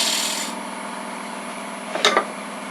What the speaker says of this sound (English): I'm going to use my detail spindle gouge to cut that bead.